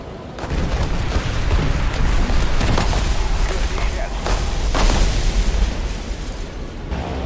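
Bombs detonate during a bomb run in a War Thunder-style air combat game, a sustained roar of heavy booming explosions and bursts filling the whole stretch, loud and continuous, with game voices mixed underneath.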